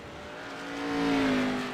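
An ARCA Series race car at the Roval swells in loudness as it approaches and passes, its engine tone rising into a strong whine that peaks and then begins to fade.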